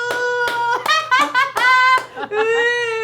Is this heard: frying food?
no